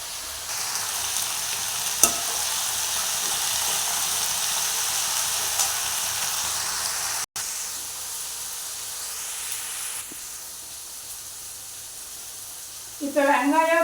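Onion and mint sautéing in oil give off a loud, continuous sizzling hiss close by for the whole stretch, easing slightly toward the end, where a brief scrape or stir cuts in.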